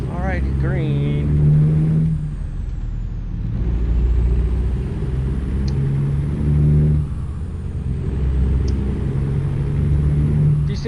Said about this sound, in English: See that the yellow light came on and that truck hit its brakes.